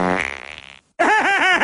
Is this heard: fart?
yes